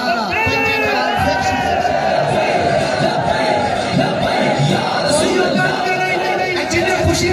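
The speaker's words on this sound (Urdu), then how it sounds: "جنہیں خوشی نال نعرے مار رہے نے" Large crowd at a supporters' thank-you gathering in Chakswari, Mirpur, loudly shouting and chanting slogans, a dense continuous roar of voices with whoops and cheers throughout.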